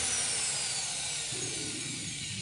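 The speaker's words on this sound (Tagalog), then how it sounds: "barina yung gamitin nyo para hindi kayo mahirapang magbutas" Power drill boring a hole in house roofing: a steady, close whirring grind for a couple of seconds with a slight drop in pitch partway as the bit bites.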